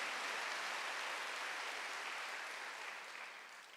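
A church congregation claps during a Sunday worship sermon, a steady wash of applause heard from a distance that gradually tapers off.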